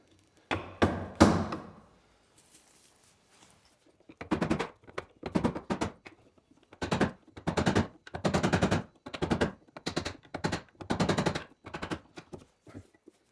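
Sharp wooden knocks of a chisel being driven to chop a mortise in wood for a workbench, a steady series of loud, evenly spaced blows after a few opening strikes, with no talking.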